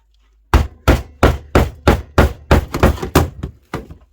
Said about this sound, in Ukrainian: стамеска та молоток